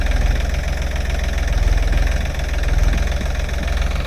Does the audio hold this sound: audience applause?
no